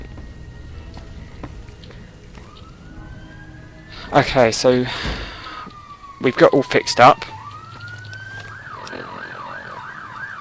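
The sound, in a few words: ambulance siren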